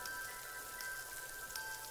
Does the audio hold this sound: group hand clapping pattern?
no